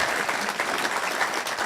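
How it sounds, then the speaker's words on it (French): An audience at an entrepreneurs' award evening applauds a winning startup founder, a loud, close, continuous wash of many hands clapping with no voices over it. "Julien Tripart pour Sportopéo, qu'on peut applaudir très très fort"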